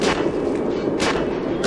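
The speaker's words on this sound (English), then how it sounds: "I see the thing that keeps exploding now." Explosion blasts in the video game Metro 2033, two bright bursts about a second apart rising over a steady, dense rumble of game noise with no talk.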